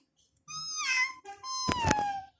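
A pet cat meows twice nearby, two clear drawn-out cries in quick succession, loud against a quiet room.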